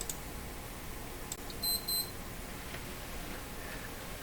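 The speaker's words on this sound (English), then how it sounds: "That was the last of my coffee alarm going off" A coffee maker alarm sounds a pair of short high electronic beeps, faint and brief, over a quiet room hiss on a workbench where old radio tubes are being tested.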